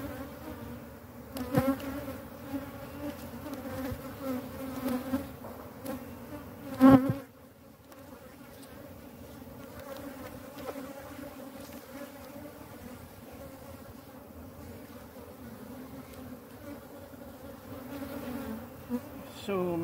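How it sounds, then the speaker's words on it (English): A dense, continuous drone of many honey bees buzzing nearby, with occasional louder passes and faint knocks, and no talking. "So many bees."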